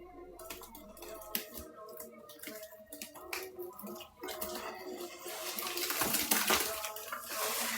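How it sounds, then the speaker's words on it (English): A watery mixture of laundry detergent, pineapple and dish soap sloshes and splashes in a container, with drips and clinks that build louder toward the end. "it is splashing everywhere"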